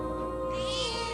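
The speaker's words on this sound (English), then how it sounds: "Pet that cat." A cat in the video game Metaphor: ReFantazio lets out one short meow, clear and close, over a sustained bed of game music.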